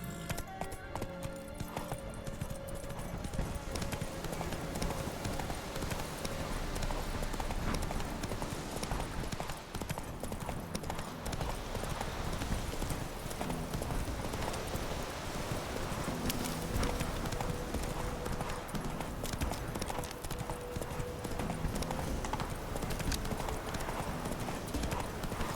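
Hooves clip-clop at a fast gallop in The Witcher 3, a continuous loud rhythmic pounding with occasional horse whinnies throughout.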